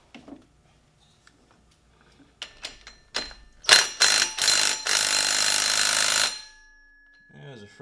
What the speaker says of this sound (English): what I'm going to do is go ahead and pull this flywheel off